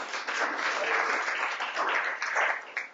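Audience applause at a breakfast talk on the audiovisual industry, a short burst of steady clapping from a modest crowd lasting a few seconds and fading at the end.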